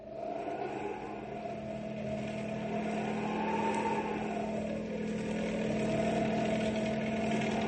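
A car engine drones steadily and loudly throughout a radio drama scene, its pitch rising and falling in slow swells as the vehicle drives on, with no voices over it.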